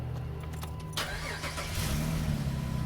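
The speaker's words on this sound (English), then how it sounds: "I get in here and I start the car." A Jeep Grand Cherokee engine cranks and starts just after a muffler replacement, then settles into a steady, fairly quiet idle close by.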